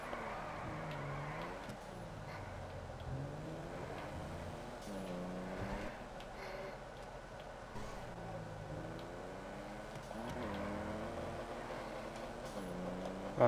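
A Casco car drives and drifts in Grand Theft Auto V, its engine droning continuously with the pitch rising and falling as it revs through turns, moderately loud with no speech.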